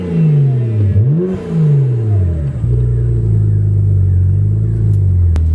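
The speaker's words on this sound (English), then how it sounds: "I'm just going to give it a little rev ski" BMW 535i with N54 engine and open exhaust cutout revving while standing still, a loud close blip that rises and falls twice, then settles into a deep, rumbling idle.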